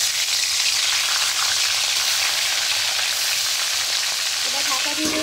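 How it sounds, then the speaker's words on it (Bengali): Fish sizzles and spits hard in hot oil in a kadai, a steady, loud crackling hiss that fills the whole stretch with no voices over it. "কড়াই তেল দিয়েছি, তেলটা গরম হয়ে গেছে। এবার মাছগুলো দিয়ে দেবো।"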